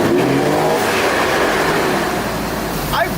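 A running Jaguar car engine gives a loud, close, continuous roar with steady broadband noise that holds for the whole few seconds, and no one speaks over it.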